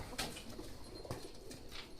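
Pigeons coo in a loft or cage after one lands, with soft repeated coos and faint rustling, fairly close and with no voices.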